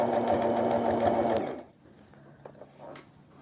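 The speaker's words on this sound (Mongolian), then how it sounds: "Одоо хоёр дахь өмднийхээ эрзэнийг нь оёх гэж байна." A sewing machine stitches the crotch seam of a pair of children's crawling pants, running loud and steady for about a second and a half before stopping, followed by quiet handling noises.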